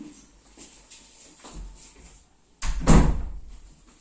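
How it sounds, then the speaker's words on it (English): An indoor door is pushed shut with a loud thud and rattle after some soft shuffling sounds, then the noise fades quickly. "And I'll go close the door."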